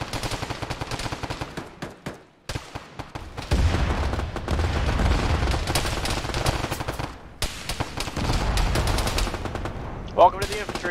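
Heavy gunfire in the military game Arma during a ShackTac squad session: sustained, loud bursts of rifle and machine-gun fire roll on through most of the stretch, with brief lulls between volleys and occasional voices underneath.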